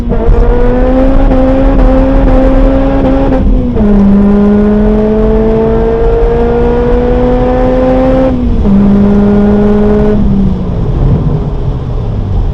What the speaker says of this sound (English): Yep, burnouts for days.